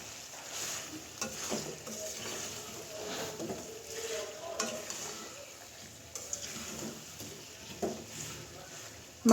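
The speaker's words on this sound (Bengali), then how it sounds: "এবার মাংসের সাথে আলুটাও বেশ কিছুক্ষণ ধরে ভেজে নেওয়া হবে।" Beef and potatoes frying together in a pan with raw turmeric crackle quietly while a spoon scrapes and stirs them in irregular strokes, a low sizzle with scattered knocks against the pan.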